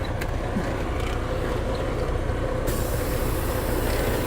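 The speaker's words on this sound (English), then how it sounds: "release the trailer brake so I can listen for air leaks" A truck's trailer air brake releases with a steady, loud hiss of escaping air that runs continuously across the clip over a rumbling idling engine, close by and with no talking.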